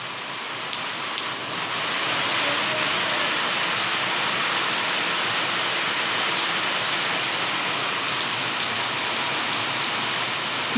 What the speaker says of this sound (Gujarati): નેવા શું એવો વરસાદ છે